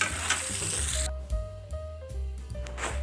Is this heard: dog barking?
no